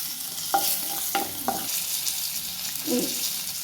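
Shallots, curry leaves and ground pepper frying in hot oil, a steady loud sizzle with a few light scrapes and taps of a spoon stirring through the pan, close by and with no voices.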